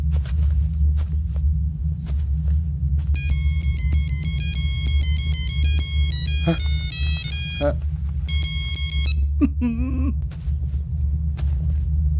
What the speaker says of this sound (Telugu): Ring tone sir. Ring tone.